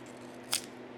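A single sharp crunch of a freeze-dried buttermilk ranch cucumber chip being bitten, one brief crisp snap close to the mic over a quiet room hum.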